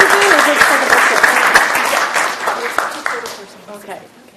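Applause at a city council meeting: a room full of people clapping steadily, fading out over several seconds with voices mixed in.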